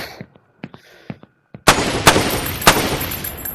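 Gunfire in the sandbox video game Beyond Sandbox: a few sharp isolated shots, then a loud, dense burst of rapid automatic fire with heavy cracks, close and dominant with no talking.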